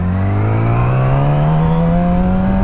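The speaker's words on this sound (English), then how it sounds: "You can give it a little bit of gas, you can hear it." A motorcycle engine revving at a complete stop before pulling away in first gear, a loud close steady drone whose pitch climbs slowly and evenly throughout, with no voices.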